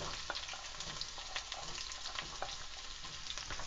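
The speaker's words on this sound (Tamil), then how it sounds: "இது ரெண்டையும் நல்லா வதக்கிட்டு அப்புறம் தக்காளி சேர்த்துக்கிடுவோம்" Onion and garlic sauté in hot oil for vathal kulambu, a soft continuous sizzle with faint crackling pops, quiet and close, with no voices.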